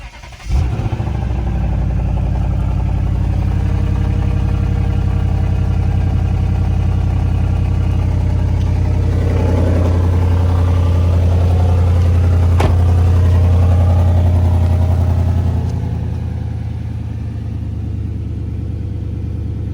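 A Lexus GS 460 V8 with a rusty, leaking exhaust fires up and settles into a loud, close, deep idle, with a rise in revs midway before easing back down.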